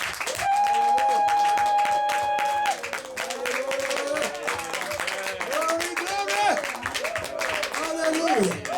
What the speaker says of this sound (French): Si nous sommes dans la joie, acclamons Jésus très fort.